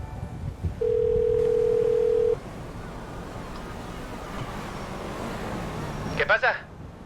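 A steady electronic telephone dial tone in GTA V roleplay game, loud and level for about a second and a half, then background hum and a short burst of warbling electronic tones near the end, with speech-like sound in the mix.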